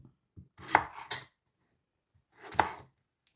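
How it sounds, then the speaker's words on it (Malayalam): A knife chopping fresh green tomatoes on a board, with a quick cluster of sharp cuts followed by a pause and then a single louder chop, close and clear with no speech. "ഇങ്ങനെ ചെറുതായിട്ട് അരിഞ്ഞെടുക്കണം അല്ലേ പച്ച തക്കാളി നല്ല ഫ്രഷ് സാധനമാണ് കേട്ടോ അതാണ് നമ്മൾ അരിഞ്ഞെടുത്തുകൊണ്ടിരിക്കുന്നത്"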